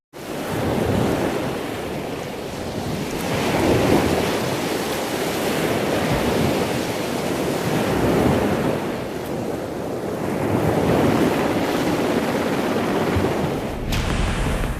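Surging Arabian Sea waves off Porbandar in stormy, changing weather, a loud, continuous roar of surf that swells and eases in slow surges, mixed with heavy wind buffeting the microphone and no voices.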